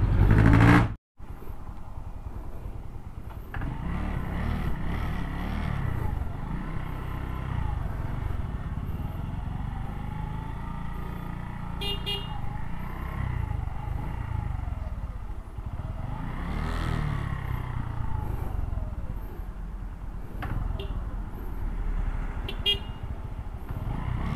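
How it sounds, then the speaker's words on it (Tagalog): Busy Manila street traffic rumbles steadily, with cars and motorcycles passing close by, engines revving, and several short horn toots sounding at intervals over the continuous road noise after a brief loud burst at the start. "Manila traffic."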